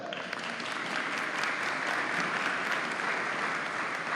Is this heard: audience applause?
yes